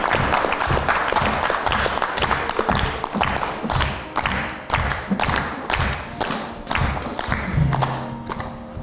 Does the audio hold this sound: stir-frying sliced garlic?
no